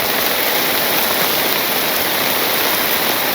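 Heavy village rain in Bangladesh roars constantly, a broad, even rush of drops striking surfaces nearby, steady throughout and free of speech.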